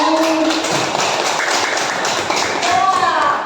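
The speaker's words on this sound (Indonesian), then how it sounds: "Tepuk tangan." Schoolchildren clap together during an Indonesian-language lesson, a dense, steady patter of many hands filling the room, with children's voices mixed in over the clapping.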